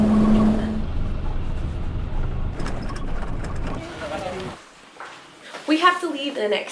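Car ride over a rough road in Myanmar, low rumbling cabin noise with bumps and jolts for several seconds, then dropping off as voices talk over it.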